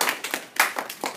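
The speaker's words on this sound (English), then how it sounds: "Et applaudis-la avec enthousiasme." A classroom of students claps for a classmate, about a second of quick, uneven handclaps with several sharp slaps close by.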